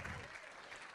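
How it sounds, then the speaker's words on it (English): A congregation claps hands together during a church service, a dense sustained wash of applause filling the space from start to end. "Everybody here, give the Lord a big hand clap."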